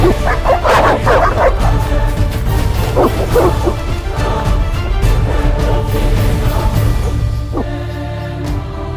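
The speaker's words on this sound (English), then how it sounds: "They're evil dogs." Several evil dogs in The Witcher video game barking and yipping in quick overlapping bursts close by, with whimpers between, over a low game ambience, tapering off toward the end.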